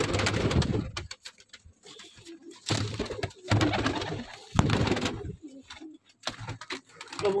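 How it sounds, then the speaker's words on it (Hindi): Breeder pigeons coo in a loft in Punjab, bursts of throaty cooing coming in waves with brief quiet gaps, close and fairly loud, no talk over them. "कबूतर निकाल दिए जी मैंने बाहर,"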